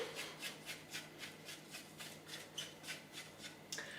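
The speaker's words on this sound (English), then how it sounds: "we'll need to scrape down the sides of the bowl just to make sure all the flour gets in" A spatula scrapes rhythmically around the sides of a Thermomix bowl holding banana bread batter and flour, giving about a dozen soft, regular rasping strokes close by.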